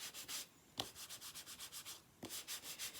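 Wooden soap box panel being burnished by hand, a quiet rhythmic rubbing of repeated back-and-forth strokes with a couple of sharper knocks and a short pause in the middle.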